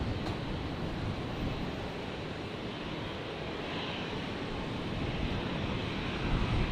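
Air Callan aircraft circling off the Brisbane coast near the airport: a steady, broadband engine roar holding evenly throughout, blended with wind or surf-like wash, with no talk.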